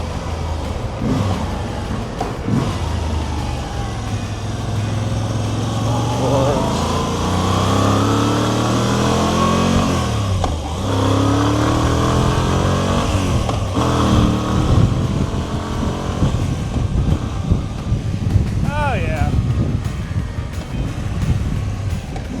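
A Moto Guzzi V85 TT motorcycle rides through Chicago's Pilsen neighborhood, its engine droning steadily with rising and falling revs through gear changes, heard up close under constant wind rush and passing traffic.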